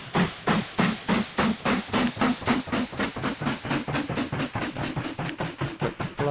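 Steam locomotive chuffing in the train game Mashinky, a steady, rhythmic series of hissing puffs over a low rumble, with about two dozen evenly spaced beats.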